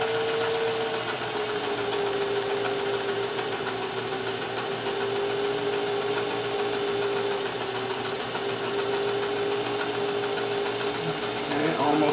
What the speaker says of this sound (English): because I'm using very fine thread, so as it stitches it very securely